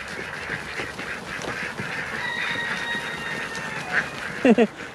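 A flock of ducks and geese murmurs steadily in the background, then a couple of loud, close honking quacks burst out near the end.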